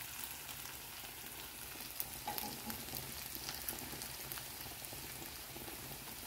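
Potato pancakes (draniki) sizzle and crackle steadily in a frying pan, a dense close hiss of hot oil with small pops and a brief clatter around the middle, no talking.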